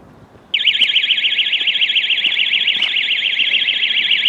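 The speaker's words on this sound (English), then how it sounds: "an alarm going off, I don't know why." A loud electronic alarm suddenly starts near a heritage railway station and keeps warbling rapidly and steadily, a continuous two-tone oscillating tone with no break, faint background noise beneath it.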